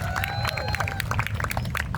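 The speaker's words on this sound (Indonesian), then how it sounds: "Tepuk tangan sekali lagi buat Bang Panji." An outdoor crowd at a speech in front of Indonesia's presidential palace claps and cheers for Bang Panji, a dense burst of applause with voices mixed in.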